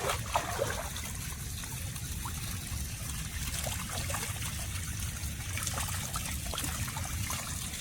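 Spring water trickles steadily at close range in a sunny forest, a soft continuous gurgling wash with small splashy details and no voices.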